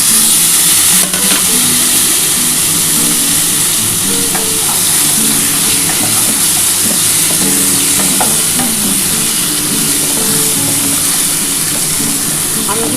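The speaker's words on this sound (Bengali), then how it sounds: "হালকা তেল দিলাম না এটা একটু অল্প তেলেই করবো হালকা করেই করবো একটু ভাজা ভাজা হোক" Pointed gourd, stems and potato frying in a little oil in a pan, a steady loud sizzle with stirring scrapes throughout, a voice talking faintly underneath.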